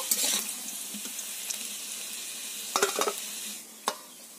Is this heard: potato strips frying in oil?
yes